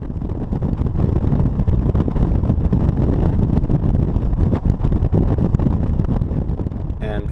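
A 116 hp five-speed Bugeye Sprite engine revs hard at about 6,000 RPM while driving at 60 mph, a loud, dense, constant roar mixed with rushing wind noise throughout.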